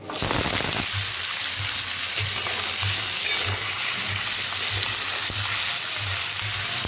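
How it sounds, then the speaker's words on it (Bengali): Diced potatoes dropped into hot oil for a vegetarian potato and soybean curry, giving a loud, dense, continuous sizzle close by with a low rhythmic hum beneath and no talking. "সেই আলুগুলোকে তেলের মধ্যে ছেড়ে দিচ্ছি"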